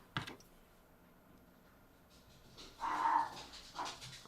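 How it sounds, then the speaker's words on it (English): Dogs make faint panting and breathy snuffling sounds in the background of a quiet indoor room, with a brief louder burst near the end. No barking stands out clearly. "Sorry about the dogs back there."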